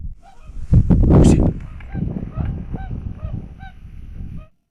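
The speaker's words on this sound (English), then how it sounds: "Ah, swans, oh man." Wild swans honk out on a remote wilderness river, several loud nasal calls in a cluster near the start, then fainter repeated honks trailing off as the birds move away, with low rumbling wind or water noise underneath.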